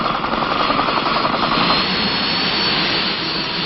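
Military helicopter rotor and turbine roar, UH-1D Huey or CH-47 Chinook, loud and steady throughout, with a faint rhythmic rotor chop early on and no voices.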